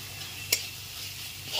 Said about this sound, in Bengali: আদা রসুন বাটাটাকেও 5 থেকে 6 মিনিট মিডিয়াম ফ্লেমে পেঁয়াজটার সঙ্গে খুব ভালো করে কষিয়ে নিতে হবে।